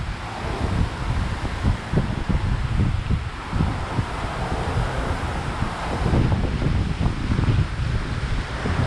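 Wind gusting through the Volcano Bay water park on a soggy August day, a loud, constant buffeting roar with low microphone rumble and rushing texture throughout, no voices.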